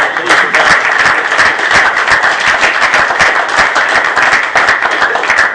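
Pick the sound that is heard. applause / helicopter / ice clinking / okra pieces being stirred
applause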